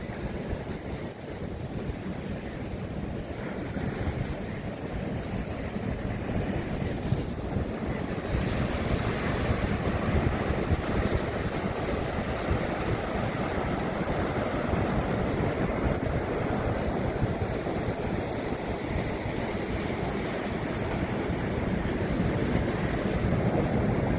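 Ocean waves wash steadily up a beach in Tasmania in winter, a continuous broadband roar of surf with wind rumble across the microphone, loud and close throughout with no talking.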